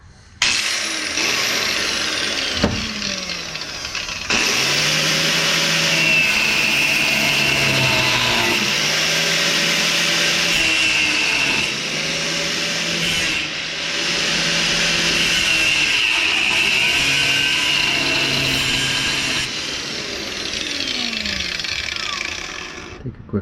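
A power tool cuts into a rusted-on sleeve of a seized shock absorber, throwing sparks. It gives a loud, continuous, harsh grinding whine that holds for long stretches with brief dips in pitch.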